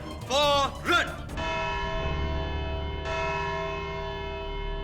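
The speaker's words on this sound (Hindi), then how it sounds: "घंटी बज गई" A courtroom bell is struck twice, its ringing tone hanging and slowly decaying, following a brief burst of speech at the start.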